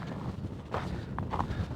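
A breeze on a hilltop in Death Valley buffets the microphone with a continuous low rumble and gusty swells, alone and without voices.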